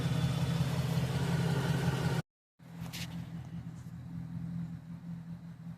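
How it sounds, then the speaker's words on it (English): A 2008 GMC Sierra 4x4 pickup truck engine idles with a steady low rumble, briefly cut to silence, then resumes with the same even drone and a faint click. "Still just sitting here idling."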